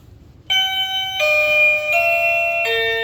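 A wireless doorbell rings out a bright multi-note chime melody, each tone ringing and overlapping, loud and close over faint background hiss.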